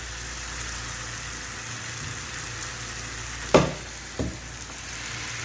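Masala for bhindi masala fries in a pan with a steady, even sizzle throughout, broken by two sharp scrapes of a spoon against the pan near the end.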